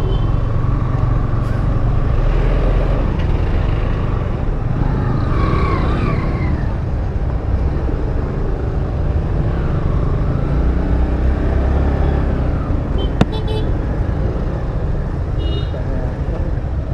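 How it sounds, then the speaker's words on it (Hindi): Dense road traffic in Nainital during the busy summer season, a constant close engine rumble and roar of vehicles with occasional brief horn toots and someone talking over it. "चेक करो गाइस क्या ट्रैफिक है"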